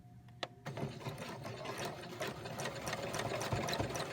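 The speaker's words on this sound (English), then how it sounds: "I'm just going to stitch kind of back and forth" A sewing machine stitching lace onto a wedding dress, a close, fast continuous whirring with small mechanical ticks, stitching back and forth.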